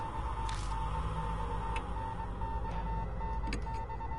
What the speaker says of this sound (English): There's an incessant beeping like from a telegraph.